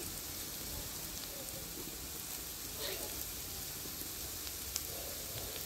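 Onion, garlic and chopped ginger frying in a pan, giving a continuous, even hiss and crackle close by, with no talk over it.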